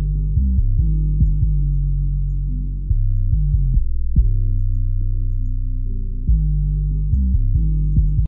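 A deep, warm bass-heavy UK drill beat warmed by a dual triode exciter plays, thick low notes and thumping kicks repeating in a steady rhythm with a rounded, saturated tone.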